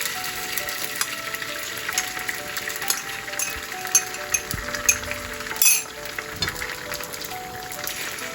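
Two eggs poured into hot oil in a pan, a steady crackling fry with light clinks of utensil on metal and a brief louder splash near the end, close with no talking.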